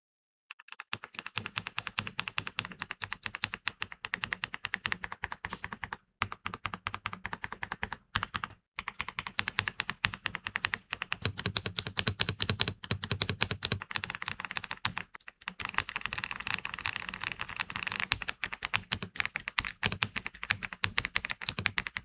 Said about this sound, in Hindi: ये कीबोर्ड जो है साउंड तो आपको अच्छा लगा ही होगा